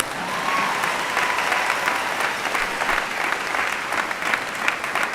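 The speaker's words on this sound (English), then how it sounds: "Now you can clap." An audience applauding at a medical school spring commencement, a dense, sustained burst of clapping from a large crowd that holds steady throughout.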